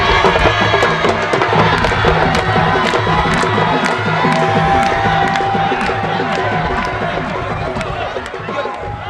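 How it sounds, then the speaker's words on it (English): A large village crowd in Senegal cheers and celebrates contest winners by the shore, a loud, dense roar of shouting voices that carries on unbroken and eases off only slightly toward the end. "The feast may begin with the crowd celebrating its winners."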